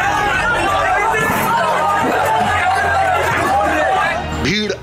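Angry protest crowd outside an SP office, a dense, loud babble of many voices shouting over one another, close and continuous, with a brief dip near the end.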